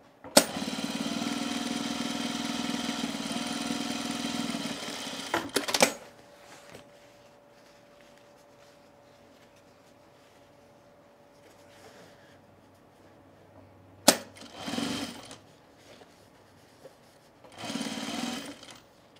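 A sewing machine top-stitches men's cargo shorts in a long, loud continuous run, followed later by a few short bursts separated by quieter stretches.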